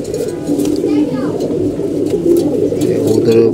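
Female pigeons coo in a loft kept through the rainy season, soft repeated coos close by with low voices in the background.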